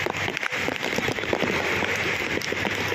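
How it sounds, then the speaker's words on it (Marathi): Heavy rain pours down steadily in a dense, even hiss of drops hitting surfaces. The sound is close and continuous, with no voices. "एवढा पाऊस आहे."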